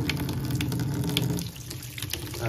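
Cold water runs from a tap or is poured while a cloth is prepared for wiping inside an egg incubator, a close, steady splashing flow that eases slightly partway through.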